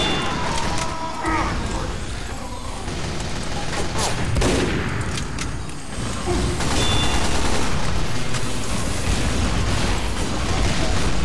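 Continuous Team Fortress 2 gunfire and explosions in a dense, loud, unbroken barrage of shots and booms, with a voice faintly underneath.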